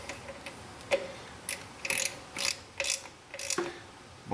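A ratchet clicks in short, repeated bursts, close by and fairly faint, as the upper intake runner bolts on a Chevy Corvette are snugged down.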